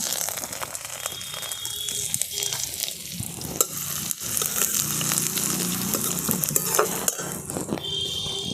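Ground ginger and spices frying in hot oil for tempering, giving a busy crackling sizzle that runs throughout, broken by stirring scrapes and a few sharp metallic clinks.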